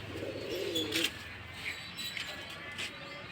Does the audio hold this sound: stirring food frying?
no